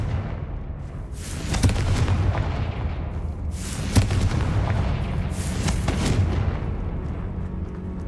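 Explosive spell blasts in Hogwarts Legacy, several loud booming bursts with crackling tails over a dense rumbling game soundscape, no voices.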